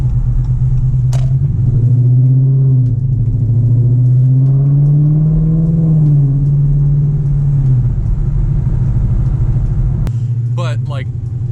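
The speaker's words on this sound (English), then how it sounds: "the light turns green before I come to a complete stop and I get on the gas again at a low speed" A Dodge Charger R/T fitted with a Circle D torque converter pulls away from low speed as the driver gets back on the gas. Its engine note drones loud and close, rising and falling slightly before settling.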